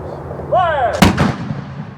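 A smoothbore musket fires once in a demonstration at the old fort in Mackinac City, Michigan. A shouted command comes just before the single loud, close blast, which rings out and fades with a trailing echo.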